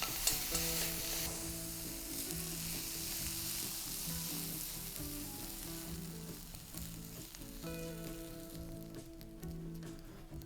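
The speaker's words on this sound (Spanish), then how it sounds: "Justo ahora vamos a sacar sal, pimienta y las removemos un poco" Mushrooms fry in a pan as they are stirred with salt and pepper, making a quiet, continuous sizzle with soft scraping, under a steady low tonal hum. No voices.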